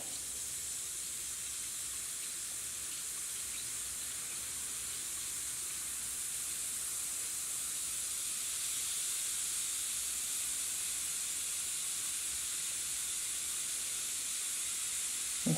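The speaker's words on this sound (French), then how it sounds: "C'est bien effervescent." A Cha Ling steam tablet fizzes steadily as it dissolves in microwave-heated water, a continuous soft hiss with no pauses or voices, faint and even throughout.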